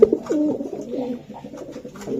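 Pigeons in a seller's coop coo in a close, rolling series of soft throaty calls that run almost continuously, with no voices over them.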